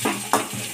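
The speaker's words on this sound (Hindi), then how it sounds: "3 हरी मिर्च ले लिए हैं, इसको कट करके इसको भी डालकर भून लेते हैं।" Green chillies and ginger-garlic paste fry in a kadai for egg biryani, with a short burst of sizzling and a couple of quick stirring scrapes close by, no voices.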